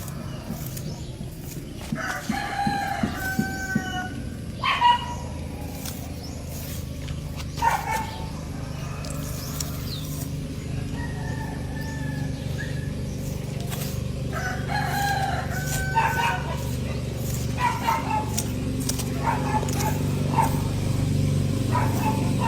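A rooster crows several times over steady rain-like background noise, with a dog barking now and then.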